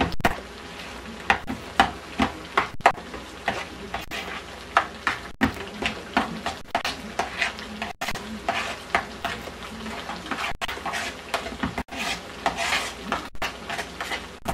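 Lasagna filling with basil leaves being stirred in a bowl, a steady series of wet, scraping spoon strokes with frequent clicks against the bowl, close and fairly quiet, with no talk.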